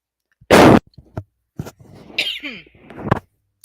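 A single sharp, loud cough bursts out, followed by quieter rustling, shuffling and a few faint clicks.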